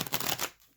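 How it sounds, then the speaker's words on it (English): Tarot cards are riffled in a quick, close burst of papery flutters that stops abruptly, leaving near silence. "Just gonna have one more shuffle here."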